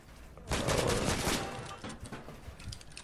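Rapid gunfire bursts out in a Fortnite battle royale match, a dense, loud volley lasting about a second that is followed by scattered quieter shots and game noise, with no talking.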